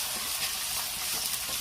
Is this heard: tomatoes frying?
yes